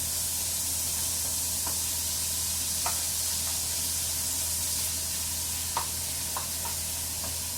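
Pork sears in hot oil in a pan with a steady, bright sizzle and hiss that runs throughout, broken now and then by a few faint pops and clicks.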